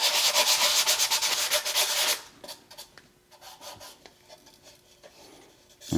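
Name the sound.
sanding 3D-printed mold with 240 grit sandpaper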